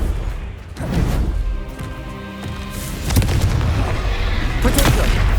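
The Confringo blasting curse in Hogwarts Legacy sets off booming explosions, several heavy blasts and rumbling impacts over continuous combat noise, with voices in the mix.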